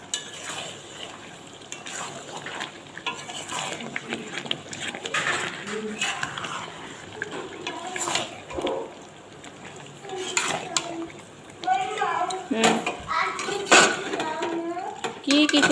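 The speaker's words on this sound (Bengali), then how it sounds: "এদিকে চিকেনটা কষাবো, তাই মশলাটা কষাচ্ছি।" A spice masala for chicken is stirred and fried in a pan: a spoon scrapes and clinks against the metal over a low sizzle, while people talk and a voice is heard now and then.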